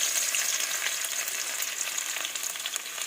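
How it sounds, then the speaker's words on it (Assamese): Ginger and garlic fry in hot oil in a wok, a close, steady hiss and crackle of sizzling that continues without pause. "এতিয়া মই ইয়াত দিম প্ৰথমতে আদা নহৰুখিনি"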